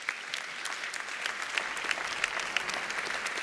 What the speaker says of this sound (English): and they get an applause.